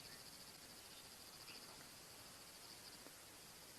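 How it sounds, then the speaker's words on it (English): Crickets and other insects calling on a safari drive after rain, a faint continuous high-pitched chirring with steady pulsing, distant and quiet under soft ambient noise. "You can hear crickets, lots of insects coming out as a result of the rain we've had here."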